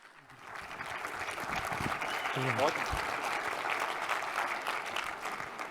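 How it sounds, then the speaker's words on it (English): A conference audience applauds steadily as a sales speaker takes the stage at a business summit, a dense crowd clapping sustained throughout with a brief voice rising through the middle. "Big round of applause to accelerate your channel sales opportunities. It's Jay McBain, everybody."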